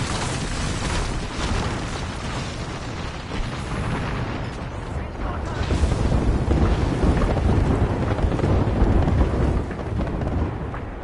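Artillery guns firing for effect, a sustained barrage of heavy booms and rumbling blasts that swells louder in the second half, dense and continuous with no clear gaps between shots.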